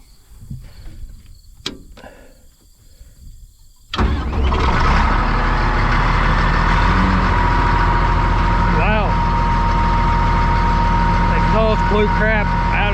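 A Caterpillar D6 bulldozer diesel engine cranks briefly on a new starter, catches abruptly and settles into a loud, steady idle, preceded by quiet background noise and followed by a continuous close rumble.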